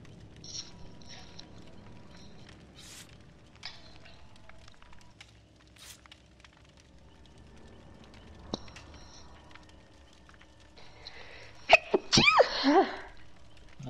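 A single sharp human sneeze bursts out near the end after a quiet stretch of faint background noise, loud and close, followed by a brief breathy tail.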